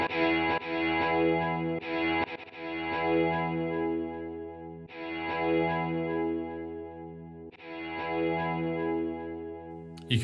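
Zero-G Inspiring Guitar Kontakt instrument holding long sustained notes that swell in gradually with a slow attack, a rich chorused tone repeating several times with short breaks between swells.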